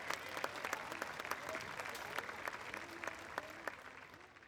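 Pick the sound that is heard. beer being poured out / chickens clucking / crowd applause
crowd applause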